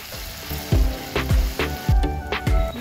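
Garlic and cumin fry in hot mustard oil for a green onion sabzi cooked over a fire stove. The oil sizzles continuously, with a regular beat of louder scraping bursts as the pan is stirred.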